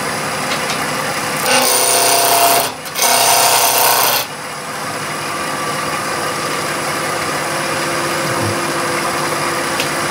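A wood lathe spins while a small bowl gouge cuts, giving a loud, steady whirring hiss that breaks briefly and resumes before fading to a constant lower motor drone.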